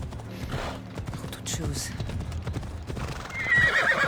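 A horse in the video game Assassin's Creed Odyssey clip-clops at a steady walk and lets out a loud whinny, with a voice talking briefly over the hoofbeats.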